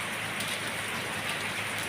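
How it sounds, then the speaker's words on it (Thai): Heavy rain pours steadily during a storm in Nakhon Phanom, a dense, continuous loud hiss with no voices or other sounds breaking through. "ฝนตกดีซะเหลือเกินนะ"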